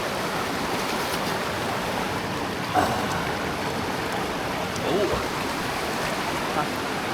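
Clear water flows through a stream at a waterfall in a peaceful natural spot, a constant close rushing wash with a brief voice exclaiming partway through.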